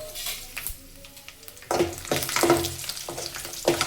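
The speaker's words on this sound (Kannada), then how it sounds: "ಇವಾಗ ಎಲ್ಲ ಫ್ರೈ ಮಾಡ್ಕೊಳ್ಳಿ." Dried Byadgi chillies and garlic cloves frying in a little oil, a quiet crackle at first, then a louder bubbling sizzle with rhythmic stirring scrapes close by.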